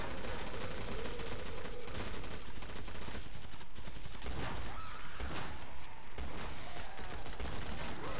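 Rapid gunfire from Killing Floor 2, dense bursts of automatic weapons and overlapping shots filling the whole stretch, loud and continuous with game noise and no clear talk.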